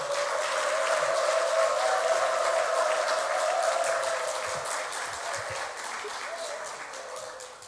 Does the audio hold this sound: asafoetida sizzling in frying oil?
no